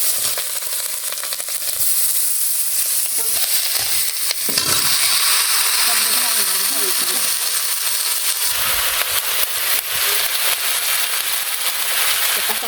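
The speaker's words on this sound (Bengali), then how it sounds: "তার মধ্যে পাঁচ ফোড়ন দিয়ে দিলাম।" Panch phoron, bay leaf and dried chili fry in hot oil with a steady, loud sizzle, broken by a stirring scrape, a brief crackle and a few faint voices in the background.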